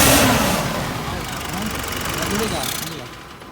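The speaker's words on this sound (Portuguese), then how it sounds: "a Frontier perdeu força e apresentou esse barulho estranho aqui no motor" A Nissan Frontier pickup engine with a loss of power idles and revs with an abnormal noise, a rough mid-range drone that swells and fades close by, with people talking over it.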